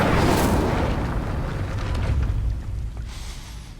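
A fire spell, Incendio, is cast in Hogwarts Legacy with a loud whooshing blast that swells at once and then fades into a rumbling decay over a few seconds.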